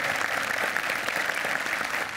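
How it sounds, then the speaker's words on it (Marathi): Audience clapping for producer Sunil Barve at a Marathi comedy play event, a steady, dense patter of many hands sustained throughout at moderate distance with no voices over it. "जोरदार टाळ्या सुनील बर्वे सरांसाठी झाल्या पाहिजेत"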